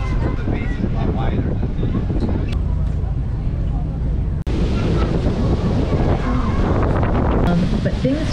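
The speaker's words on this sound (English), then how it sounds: "I got 25 knots of speed. That's 25 knots of cool Pacific Northwest air coming across." Strong wind buffets the microphone aboard a fast-moving whale-watching boat off Anacortes, Washington, in the Pacific Northwest, a steady loud roar with water rushing beneath, broken by one brief cut midway.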